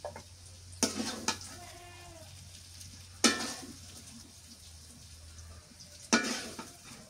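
Fried new potatoes being stirred and mixed in a pan, a low continuous sizzle broken by three loud scraping, clattering strokes of a utensil against the pan, spaced a few seconds apart, no talking.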